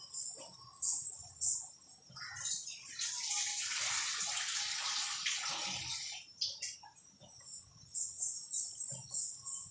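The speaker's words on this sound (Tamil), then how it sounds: "தேவையான அளவுக்கு தண்ணி ஊற்றிக்கலாம்." Water is poured into a cooking pot of fish curry with cluster beans, a gushing splash swelling for a few seconds amid faint clinks and soft kitchen sounds, with no voices.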